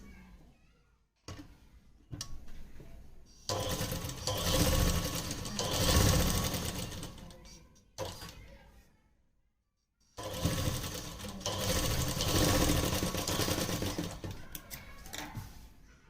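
A sewing machine stitches a pocket on a ladies' trouser, starting with a few short bursts and then running in two long, steady, loud stretches separated by a brief pause.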